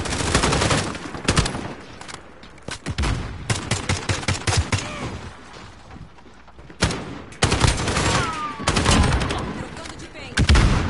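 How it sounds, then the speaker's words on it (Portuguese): Bursts of gunfire from a PS4 shooter, sharp shots and rapid machine-gun strings in uneven clusters with brief lulls, loud and close, while game voices speak between them. "Estão atirando!"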